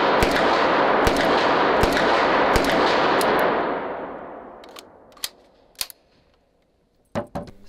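A demilitarized Beretta PM12 submachine gun in 9x19 fires close by, sharp loud shots over a long reverberant wash that fades out, followed by a few isolated cracks.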